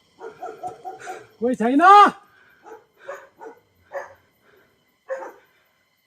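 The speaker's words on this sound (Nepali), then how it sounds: "माथि कुकुर भुकिरहेछ" A dog on an uphill trail gives a few yips and then one drawn-out, loud bark, followed by quieter intermittent voices talking.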